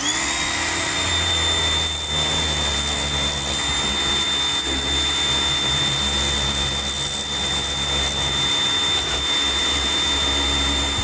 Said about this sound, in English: I got to give the old John Deere tractor a shower